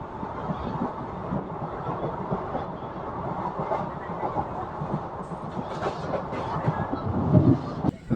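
A passenger train on the Dharmavaram to Narasapur route rumbles along near Kalikiri station with a steady rolling clatter of cars and a louder jolt near the end, no voices.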